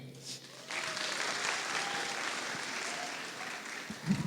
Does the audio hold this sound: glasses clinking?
no